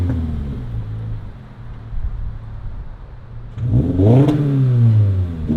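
Exhaust of a Toyota GR86 with a muffler delete and carbon fiber tips: low steady idle rumble, then a sharp rev that rises and falls, deep and close.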